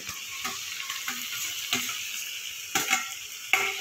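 Ginger sizzling in hot oil in a pan for a mutton curry, a steady crackle of frying with occasional soft stirring scrapes and utensil clicks close by, no talking.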